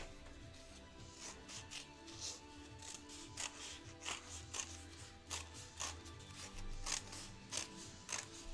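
Quiet, irregular snips and rustles of scissors cutting paper bunny ears, close by and soft, with faint room noise in between.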